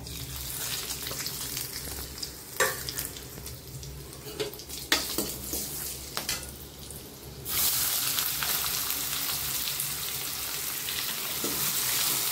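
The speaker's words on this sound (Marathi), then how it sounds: "मी आता अख्खा मसाला टाकून घेते त्याला" Whole spices sizzle as they fry in a pan, with a continuous close hiss and stirring scrapes that swell into a louder, brighter frying roar partway through.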